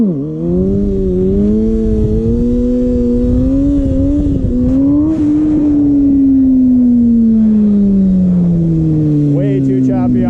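Kawasaki ZX6R motorcycle engine droning steadily, pitch rising and falling with jerky throttle inputs during slow clutch-controlled riding, loud and close throughout the whole stretch.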